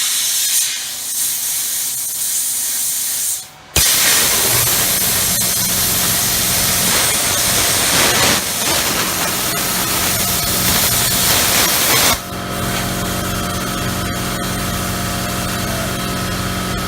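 Plasma cutter cutting a hole in steel plate on a DIY stand, a loud steady roaring hiss of air and arc running for several seconds, with a short break and then a change in tone near the end.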